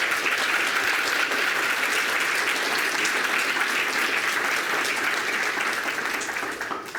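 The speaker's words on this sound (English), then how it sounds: "Big round of applause for them." Sustained applause from a conference audience at a UK research update, a dense, steady clapping wash lasting about seven seconds before tapering off at the end.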